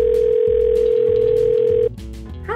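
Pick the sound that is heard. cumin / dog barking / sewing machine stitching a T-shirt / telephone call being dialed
telephone call being dialed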